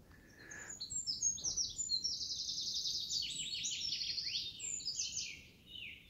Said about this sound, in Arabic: كل عصفور له صوت. طبعا ما اقدر اشوفهم هذين، اعتقد بيها الكناري.